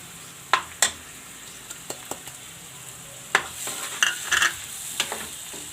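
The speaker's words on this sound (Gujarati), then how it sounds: "તો સરસ આપણે આ મસાલો પકાવી લેશું" Masala with added tomato gravy cooking in a pan for rajma, a low sizzle broken by sharp spoon scrapes and clinks against the vessel, close up with no voices.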